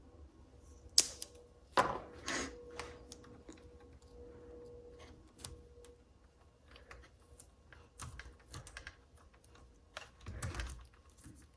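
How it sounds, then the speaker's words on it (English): Electrical tape is wrapped around a wire during a Tesla Model 3 mirror install, giving quiet, close, scattered crackles, peels and clicks with one longer tearing stretch. "this wire right here that I've got ran, I'm just going to use some electrical tape."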